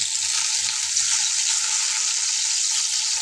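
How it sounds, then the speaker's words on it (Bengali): Whole cardamom, cinnamon and a halved bay leaf frying in hot oil give a loud, continuous sizzle close by, steady from start to finish with no voices. "আমি এই যে একটা এলাচ আর একটা দারুচিনি আর একটা তেজপাতা 2 ভাগ করে দিয়ে দিই।"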